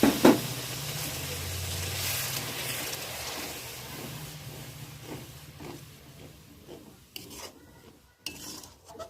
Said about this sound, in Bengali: একটু জল দিয়ে মশলাটা ভালো করে কষাবো